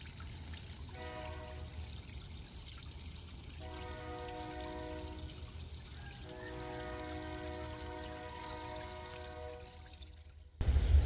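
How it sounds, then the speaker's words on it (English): A loud train horn blares in long harmonic blasts, three sustained pulses separated by brief gaps, over a rumbling background, ending with a sudden thump. "Oh, loud train."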